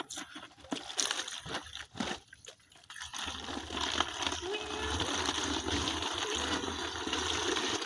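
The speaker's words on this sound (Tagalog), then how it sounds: "So ganyan lang, lagyan natin tubig." Water poured into a container of seaweed for fermented fertilizer, a steady close gush and slosh that builds after a few handling knocks and rustles at the start.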